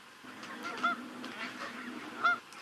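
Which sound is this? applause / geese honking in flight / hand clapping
geese honking in flight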